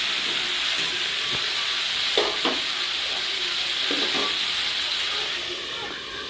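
Jute leaves with turmeric being stirred and fried in a pan, a continuous close hiss of sizzling with a few soft scraping strokes of the spatula and light kitchen sounds over the frying.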